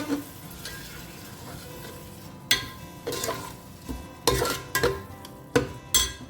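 Stirring pav bhaji in a pan with a spoon after adding water, scraping and clinking in irregular strokes over a steady sizzle, close and fairly loud, no voices.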